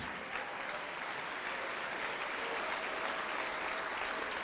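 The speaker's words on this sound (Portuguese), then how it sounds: "vamos aplaudir mais ao nome de Jesus" A church congregation applauds together, a dense, steady wash of clapping from many hands filling the room without pause.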